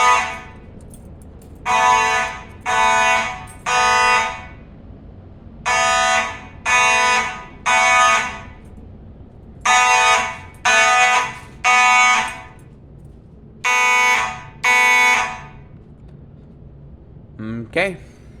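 A Simplex 9838 fire alarm horn sounds during a test, blaring in a loud repeating pattern of short bursts with brief pauses, ending in a short blip.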